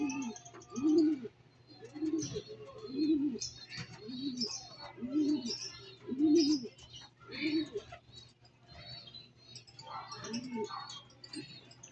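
Racing pigeons at a loft give repeated soft throaty coos in a steady rhythm, close and moderately loud, with light chirps and faint background voices.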